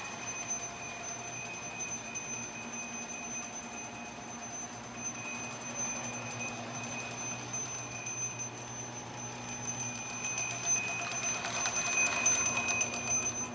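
An American Flyer model train locomotive's electric bell rings continuously at a steady, fairly quiet level, turned down via an 18B transformer, with faint running noise growing slightly louder toward the end.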